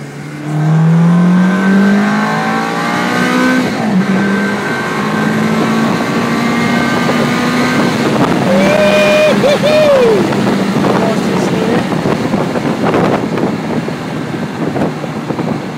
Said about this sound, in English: That gear change, man. I'm in third gear.